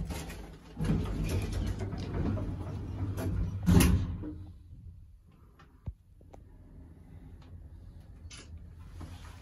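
Doors of a 1988 Otis Europa 2000 elevator in a library sliding open or shut, with a rumbling run and a sharp clunk near the middle, followed by quieter background hum.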